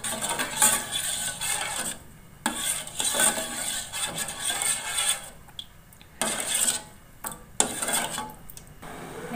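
A spoon scrapes and clinks against a metal pot, stirring grass jelly milk pudding mixture in repeated strokes, close by, with rhythmic scraping and occasional brief pauses.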